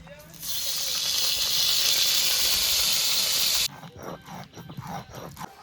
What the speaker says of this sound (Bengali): এবার কড়াইতে সর্ষের তেল দিয়ে দেবো।